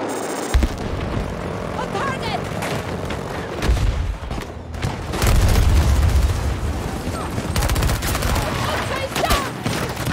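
Rockets and gunfire erupt in a Battlefield 2042 firefight: loud booms and rapid shots pile into a dense, continuous barrage with heavy low rumbles, while people talk over the din.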